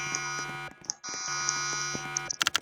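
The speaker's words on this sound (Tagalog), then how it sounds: "An alarm is going off." Electronic alarm blaring in a video game, a steady high buzzing tone that cuts out briefly, resumes, then breaks into rapid pulses at the end.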